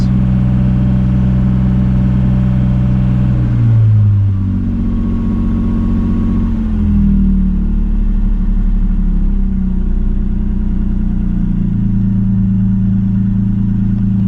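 A BMW E30 with a 2.8 fuel-injected engine idles on a fitted choke, a loud, close, steady low rumble. Its pitch shifts and settles a couple of times as the idle changes, with no talk.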